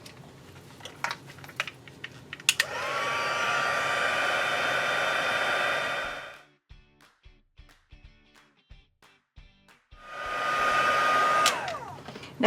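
A heat tool blows hot air to set embossing powder on a card. The loud, steady blowing runs for several seconds, cuts off for a quiet stretch with a few small clicks, then starts up again.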